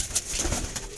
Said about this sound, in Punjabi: ਨੀਲੀਆਂ ਕਬੂਤਰ ਜੇ